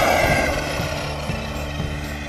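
An Arrma Talion 6s BLX 4WD 1/8-scale RC speed truggy drives at full throttle, giving a steady, loud electric motor whine with drivetrain buzz that holds constant throughout without talk.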